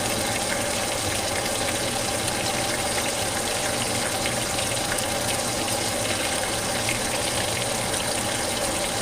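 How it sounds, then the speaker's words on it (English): Tap water runs steadily while hands are washed at a kitchen sink during home cooking of brown stew chicken, a constant close hiss with a low hum underneath and no talking. "Put this down and wash my hands"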